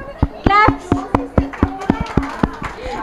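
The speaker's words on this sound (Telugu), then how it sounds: "Yeah correct answer. క్లాప్స్." An audience at a Women's Day celebration claps for a correct quiz answer, a quick run of sharp, evenly spaced claps mixed with lively voices and children's chatter.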